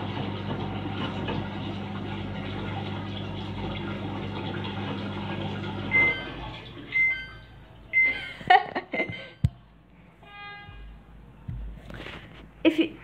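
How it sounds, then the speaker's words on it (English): Samsung washing machine draining its water: a steady broadband wash of running, gurgling water for about six seconds, then a quieter stretch with scattered clicks, beeps and soft knocks. "I am pressing only this button for draining the water."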